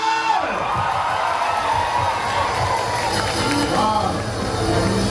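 A large crowd at a live music performance during a furniture shop opening cheers and whoops continuously, loud and close, with shouting voices mixed into the roar throughout.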